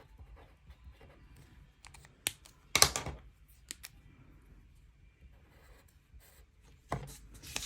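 A pen writing on paper for a budget, faint scratching and rubbing close by in a quiet room, with a few sharp taps and short louder strokes scattered through it.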